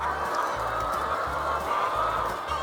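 Laying hens on a chicken farm keep up a dense, continuous chorus of clucking and calling, a steady crowded din with no pauses.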